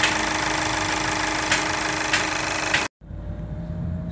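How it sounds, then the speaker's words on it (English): A Skoda Laura engine runs loud and steady with a broadband roar and a few sharp ticks, then cuts abruptly to a quieter idle hum. "Got the engine started now."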